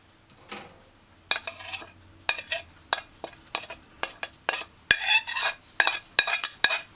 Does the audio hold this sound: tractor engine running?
no